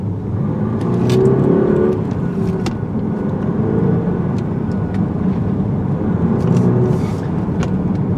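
A 2018–2019 Audi A5 Sportback with a small four-cylinder engine pulls hard under acceleration, a steady, loud engine drone with road noise heard from inside the car, no talking.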